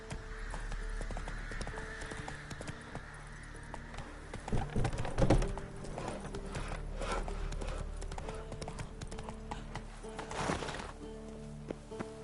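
Hooves of the horse Roach clip-clop in a steady galloping rhythm in The Witcher 3 video game, with a brief whinny and faint birdsong in the background.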